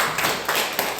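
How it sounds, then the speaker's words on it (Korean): Congregation clapping in a Korean church service after a prayer, a brief, dense burst of many hands clapping at close range, loud and continuous. "하나님께 감사의 박수 하겠습니다."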